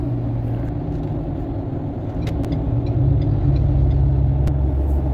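A Ford Ranger Wildtrak bi-turbo pickup on Profender monotube suspension with a 2-inch lift and 20-inch wheels rolls down a road, giving a steady low cabin rumble with a few light thumps over the joints.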